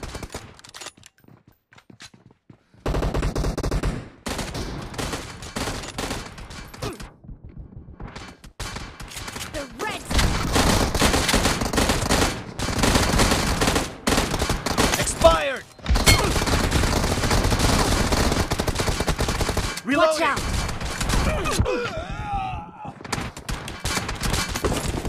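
Bursts of automatic gunfire in the battle-royale game PUBG Mobile, loud clattering volleys separated by short pauses, with game voice callouts heard between them.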